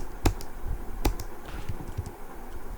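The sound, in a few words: typing on a computer keyboard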